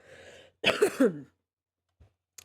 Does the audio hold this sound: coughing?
yes